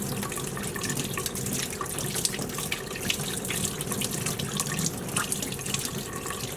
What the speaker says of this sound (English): our next step is going to be rinsing this meat off in cold water